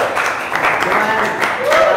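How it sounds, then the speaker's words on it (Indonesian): Classroom applause for a student group: a dense patter of clapping from many hands over two seconds, with a voice speaking over it. "Sekali lagi kita berikan tepuk tangan ke kelompok Royan."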